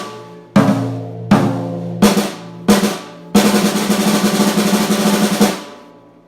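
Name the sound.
sloppy double stroke roll on snare drum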